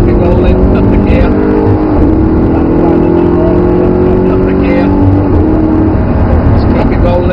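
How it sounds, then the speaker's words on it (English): Audi R8 accelerating hard out of a corner, a loud, steady engine drone heard from inside the car with rising tonal whine, while a person talks continuously over it. "accelerate all the way out, use the power, don't change gear yet, keep it rolling, up the gear"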